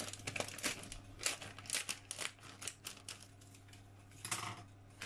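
A plastic cake mix packet is cut open with scissors, giving a run of crisp crinkles and snips at close range, fairly quiet, with no talking.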